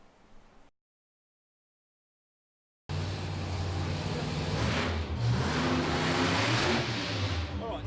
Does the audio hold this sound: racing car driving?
yes